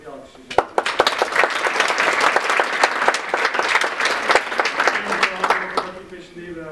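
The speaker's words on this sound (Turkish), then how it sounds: "Bir alkışlayacağım." A lecture audience at a mathematics and physics talk breaks into sustained applause, dense steady clapping from many hands that swells and then tapers off, with some voices mixed in underneath.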